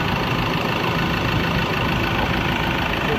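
A 2016 Ford Ranger XLS pickup's 2.2-litre turbo diesel engine idles in an open engine bay, a steady, even, close mechanical hum that stays alone and constant throughout.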